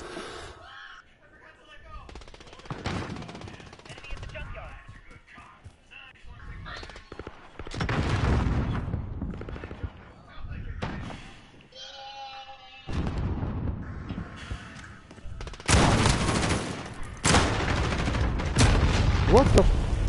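Gunfire aimed at the player in a PS4 video game erupts in heavy, loud bursts of shots and booming impacts, growing denser toward the end, mixed with game sounds and a voice talking.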